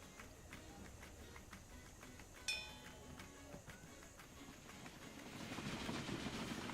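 A train runs in a PC video game, with a faint rhythmic clickety-clack of wheels over rail joints, a brief sharp clank partway through, and a growing hiss of noise toward the end.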